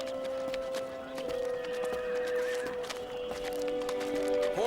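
Several horses neigh and whinny at a busy horse market, with a long whinny in the middle and more toward the end, over steady crowd bustle and scattered hoof clopping.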